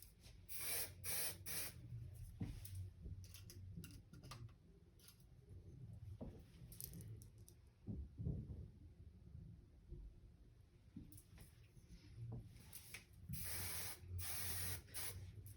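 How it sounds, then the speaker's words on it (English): Repeated short hissing bursts of texture spray misted onto styled hair in a salon, several quick sprays in succession with quieter handling noises between them, fairly faint overall. "I'm just going to use my texture spray to help give me a little lift there"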